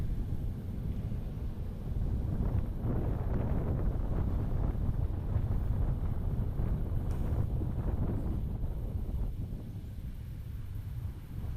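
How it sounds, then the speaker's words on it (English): Wind buffets an outdoor microphone in a coastal private community, producing a continuous loud low rumble that surges and eases throughout. "sorry about the wind,"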